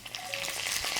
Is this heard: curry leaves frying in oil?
yes